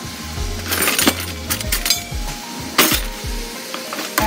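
Spoon scraping and clinking against a pot while minced garlic is added to a low carb pizza casserole, several close, sharp metallic taps and clatters over a faint sizzle.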